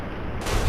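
A gunshot headshot in Fallout: New Vegas, a single hard burst that swells into a loud, booming report near the end of the short moment.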